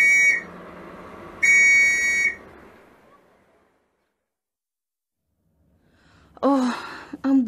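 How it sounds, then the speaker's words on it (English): Two sharp, shrill whistle blasts, the second after a short gap, then quiet before a brief burst of voice-like sounds at the end. "take this whistle, open that window, and give it 3 good blasts."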